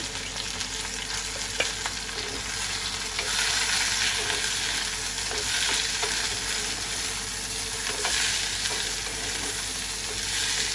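Onions and green beans sizzle in hot oil, a loud, continuous crackling hiss with occasional faint scrapes of stirring and a few small pops throughout.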